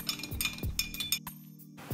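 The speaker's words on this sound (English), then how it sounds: "Give it a good stir." Spoon stirring an Old Fashioned of bourbon, brown sugar simple syrup and Angostura bitters in a glass, giving a run of close, light clinks and taps at an uneven rhythm with no talking.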